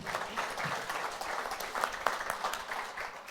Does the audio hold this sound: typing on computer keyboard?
no